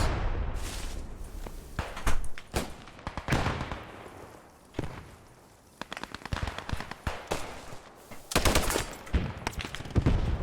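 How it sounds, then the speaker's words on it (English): Machine gun fire in the World War II shooter Post Scriptum: irregular bursts of rapid shots and single cracks, some close and loud, others more distant, with brief quieter gaps between volleys. "Ah, it's an MG."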